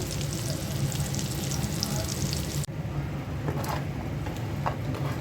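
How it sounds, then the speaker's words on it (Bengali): Kebabs fry in hot oil in a pan, a continuous close crackling sizzle that shifts partway through when the pan is moved or stirred, with faint clinks over it and no talking. "কাবাবটা ভেজে নিচ্ছি"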